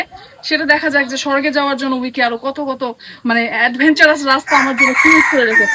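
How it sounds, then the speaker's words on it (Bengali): A large rooster crows repeatedly and loudly close by on a hill path near Madhabkunda waterfall in Bangladesh, with clucking between calls, while a person keeps talking over it. "মোরগ ডাকছে আমাকে"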